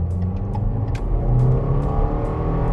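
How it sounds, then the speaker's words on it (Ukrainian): A 2015 Subaru Legacy 2.5 with automatic transmission accelerates uphill into a turn, engine revving in a loud, close, continuous low drone with rising tonal whine from inside the car. "просто показати приблизно, як вона розганяється, як вона набирає оберти"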